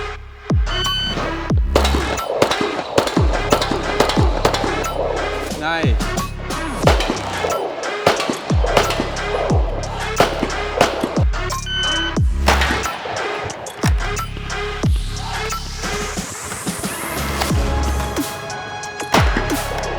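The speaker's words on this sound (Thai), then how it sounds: "อันนี้เรายิงปืนมาสักพักหนึ่งแล้วนะครับ" Gunshots ring out at a newly opened shooting range in Nakhon Si Thammarat, Thailand, loud sharp cracks repeating at an irregular, fairly quick pace throughout, with background noise between shots.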